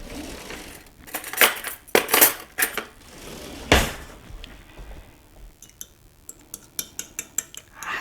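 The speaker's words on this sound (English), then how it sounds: "I'm going to get me a fork and beat those up just a little bit." A fork beats two eggs in a bowl, sounding as sharp clinking strokes, first several loud scattered hits and then a quicker run of lighter taps near the end.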